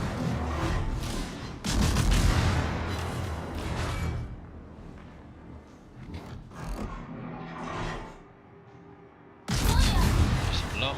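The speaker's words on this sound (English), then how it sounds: "Cannon sound feedback." Heavy ship cannon fire from German tier X ships in the video game World of Warships comes as loud, booming blasts and rumbling salvos, close and continuous across the stretch.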